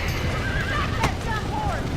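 A horse neighs briefly in the video game Red Dead Redemption over heavy background noise, with hooves clopping and a voice in the mix.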